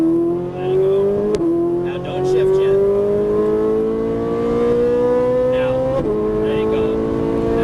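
A Ferrari 458 Italia engine accelerates out of a corner, its tone rising steadily across two upshifts marked by brief dips, loud and close, with an instructor speaking over it.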